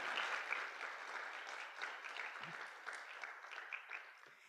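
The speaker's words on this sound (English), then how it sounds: "Please give a round of applause for yourselves for coming today" A summit audience gives itself a round of applause, steady, even clapping from a sizable crowd in a hall, heard at a distance and fairly quiet, holding without pause.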